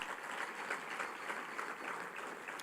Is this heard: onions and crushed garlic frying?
no